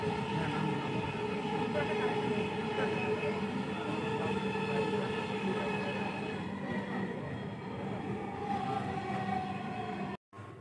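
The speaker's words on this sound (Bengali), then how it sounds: "প্রথমে ঢাকা থেকে মেট্রো রেলে মতিঝিল গিয়ে নামলাম" A Dhaka metro train running toward Motijheel rumbles steadily with a constant mechanical drone and hum, loud and close, fading briefly near the end.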